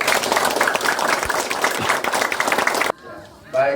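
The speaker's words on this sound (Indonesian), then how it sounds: "mari tepuk tangan dulu" A church congregation claps loudly and steadily for about three seconds, then the applause cuts off and a voice is heard faintly afterward.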